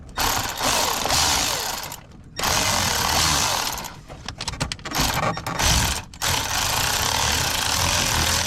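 A Milwaukee power tool snugs lug nuts on a Ford Fiesta in several loud, rattling impact bursts close by, broken by short pauses between nuts.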